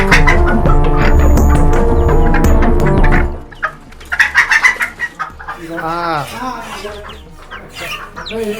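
Chickens cluck loudly and densely at a chicken shop for the first few seconds, then fall away as a person talks over quieter background noise.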